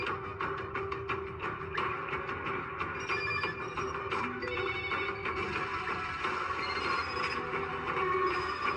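In a John Wick film scene, many telephones ring at once, carrying a message. A dense, busy layer of ringing and electronic chirps runs steadily throughout, with no speech.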